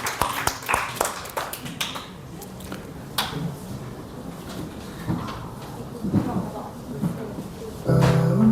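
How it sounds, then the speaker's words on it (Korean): A congregation clapping during a Korean church Sunday worship service: scattered, uneven claps that are strongest at first and then thin out, with voices heard throughout. "우리 박수로 하나님께 영광을 돌립니다."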